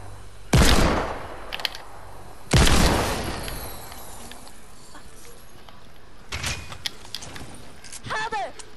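Two loud, close gunshots boom in Fortnite, each with a decaying tail, followed later by softer shots and clicks while players talk.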